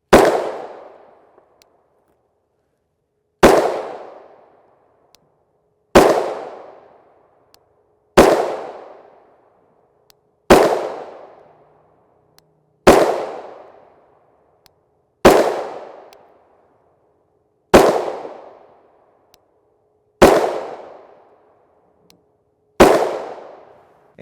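A Glock 29 pistol with a 4 1/4 inch threaded barrel fires 10mm Auto 180-grain FMJ rounds: ten loud, sharp single shots, evenly spaced about two and a half seconds apart, each with a quick decaying echo and silence between.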